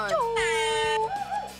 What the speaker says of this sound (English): We love the air horn.